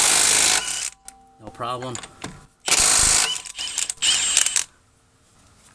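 A Milwaukee M18 Fuel 2960 impact wrench, set to mode 4, rattles loud lug nuts off a wheel in three hard bursts, with a short ratcheting spin between them and a brief spoken remark in the gap.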